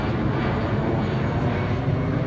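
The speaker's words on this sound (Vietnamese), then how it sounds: "Máy bay." A fixed-wing airplane drones overhead above a rooftop garden, a broad, steady rumble of engine noise that stays loud and even throughout, with no voices.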